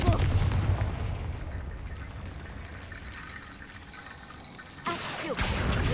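A Confringo explosion spell goes off in the video game Hogwarts Legacy: a loud, sustained crackling roar slowly fades, then a sharp fresh burst hits near the end.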